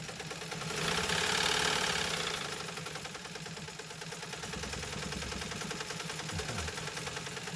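A Brenda's Dressmaker Class 15 sewing machine runs steadily on a bouncy plastic table, its fast even needle chatter and motor hum close and continuous, with no talking.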